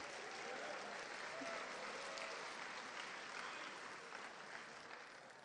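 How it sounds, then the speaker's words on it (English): Sustained applause from a crowd at a high school varsity awards night, dense clapping that stays even and fairly loud, tapering slightly toward the end. "Let's give them all a round of applause."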